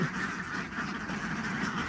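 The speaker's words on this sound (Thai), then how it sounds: "เป็ดที่เรามาส่ง ก็ประมาณนี้นะครับ" Ducks in a farm pen quack in an overlapping chorus, a continuous, fairly loud raspy clamor from several birds close by, with no voices.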